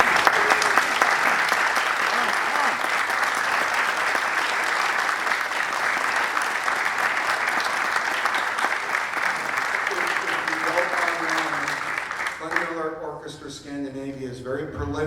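An audience at a Glenn Miller Orchestra event breaks into dense, sustained applause that fills the room evenly, then fades away as a voice starts speaking near the end.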